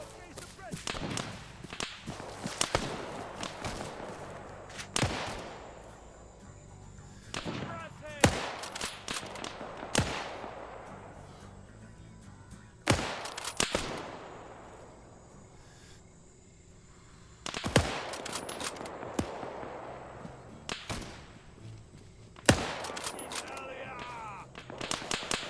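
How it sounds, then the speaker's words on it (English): Shotgun blasts boom repeatedly in a war video game set in Sierra Leone, loud sharp shots spaced irregularly every few seconds, some in quick pairs, over a low background of game ambience and faint voices. "You're firing shotguns at them."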